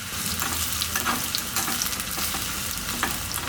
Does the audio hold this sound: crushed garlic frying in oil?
yes